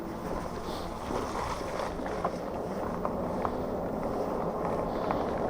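A Troxus Skyhopper electric scooter rolls through deep puddles with a steady broad wash of churning, splashing water and wind rush, a few small sharp splashes poking through the continuous noise.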